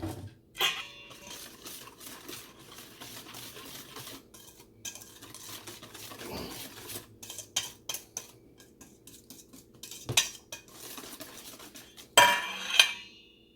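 Flour being mixed into pecan pie filling in a bowl: irregular scraping and tapping of a utensil against the bowl, quiet for long stretches, with louder clattering knocks toward the end.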